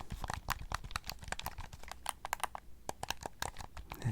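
Buttons click rapidly on a pre-owned video game controller, close and quiet, in quick uneven bursts of small plasticky clacks.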